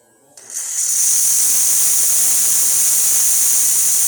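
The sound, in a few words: steam wand hissing on Pasquini Livia 90 espresso machine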